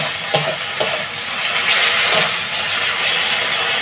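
Mutton with chopped green chillies and ground chilli paste frying on a clay stove, a steady broadband sizzle with a few sharp stirring clinks early on, close and fairly loud with no talk.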